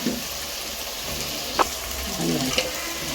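Onions sautéing in a pan for coconut rice, a steady soft frying sizzle with a couple of brief clinks from stirring, no voices.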